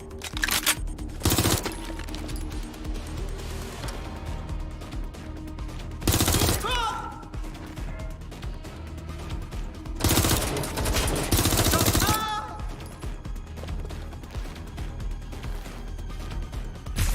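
A video game shootout in Watch Dogs Legion, with several bursts of loud automatic gunfire separated by stretches of quieter background noise and occasional shouted voices, the shots near and sharp.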